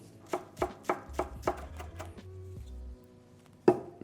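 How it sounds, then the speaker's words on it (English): Knife chopping ingredients on a board before they go into a mortar and pestle for a Christmas dinner dish: a handful of sharp, evenly spaced thuds, then a pause and one last loud chop, with a low hum underneath. "we're gonna chop this first before we put it in the mortar and pestle."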